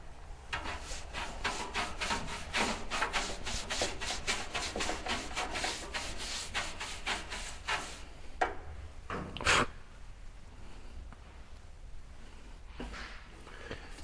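A soft bristle brush scrubs a Lanair waste oil heater in quick, regular back-and-forth strokes for several seconds, then breaks into a few scattered, sharper brushing swipes, close by with no talking.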